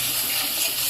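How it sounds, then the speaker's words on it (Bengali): A small splash of water hits spice paste frying in a pan, giving a brief, steady hiss that is close and fairly loud. "মশলাটা যাতে পুড়ে না যায় কষানোর সময়, তার জন্য একটু জল দেওয়া হচ্ছে সামান্য পরিমাণ"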